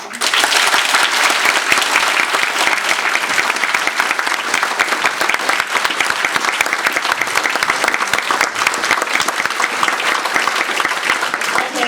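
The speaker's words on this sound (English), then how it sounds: "I think Lena really deserves our applause" Sustained applause from a conference audience following an award memorial lecture at a social work conference, dense and steady throughout, loud and close with no pauses.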